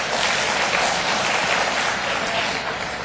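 Brief, even burst of audience applause at a leadership seminar, a dense wash of many hands clapping at once, close and loud for a few seconds.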